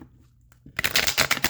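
Tarot card deck being shuffled, a short near riffle of flicking cards that bursts in after a quiet pause and runs busily to the end.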